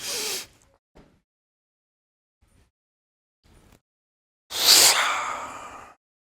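A person lifting a weight overhead draws in sharp, loud breaths close by: a short rush at the start, then a longer forceful inhale near the end, with quiet gaps between.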